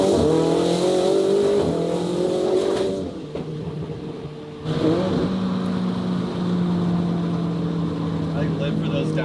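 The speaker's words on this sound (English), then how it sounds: "I live for those downshift sounds." Ferrari Mondial t engine on a ride, loud close revving that drops away, pauses and picks up again as it downshifts, with cabin rumble and some voices underneath.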